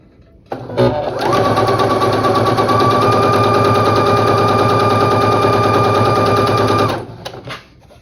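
A sewing machine stitches a quilt block along a marked line in one continuous fast run of about six seconds, loud and close, starting and stopping abruptly with no talking.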